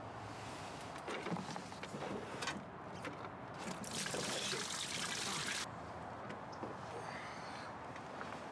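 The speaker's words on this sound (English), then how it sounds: "Remove the lower coolant hose and make sure to have a catch pan ready." Coolant pouring from the removed lower hose of a Jaguar XJ6 into a catch pan, a steady liquid splash and trickle that swells for a few seconds before settling back to a quieter drip, heard close and alone.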